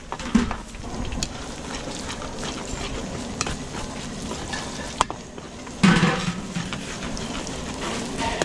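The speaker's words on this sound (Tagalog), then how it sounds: "gigisa na natin yung pork minudo. Sibuyas, bawang." Onion and garlic sautéing for pork menudo at an outdoor catering event, a steady broad sizzle with stirring and scraping, a louder burst of frying near the end as ingredients hit the pan.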